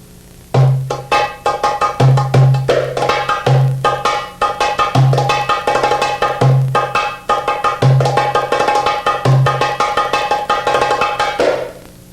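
A dumbek plays a chiftetelli rhythm: deep booming strokes recur at a steady slow pulse, filled in between by quick, crisp rim taps.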